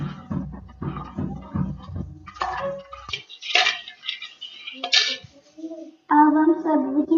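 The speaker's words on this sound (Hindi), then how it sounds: "अब उसको मिक्स करेंगे अच्छे से सब।" Sharbat ingredients stirred and mixed in a vessel, with a steady rhythmic clinking of a spoon against the container at first, then scattered knocks and scrapes while someone talks nearby.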